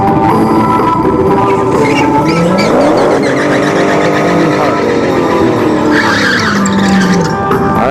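A Dodge Challenger race car at a drag strip during test and tune, loud engine roar with shifting pitch and tire squeal, heard with talk over it throughout.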